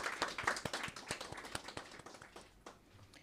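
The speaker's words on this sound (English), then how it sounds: "Another round of applause for Nikovia." Faint, scattered clapping from a small group of audience members at a women in sport awards ceremony, with sharp individual claps that thin out toward the end.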